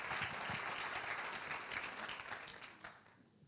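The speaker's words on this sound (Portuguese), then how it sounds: "Uma salva de palmas para o António Calheiros, por favor" Audience applause for a speaker at a training event, a dense wash of many hands clapping that is fairly faint and gradually fades over a few seconds.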